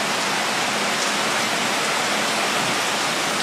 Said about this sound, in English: It's raining like hardcore.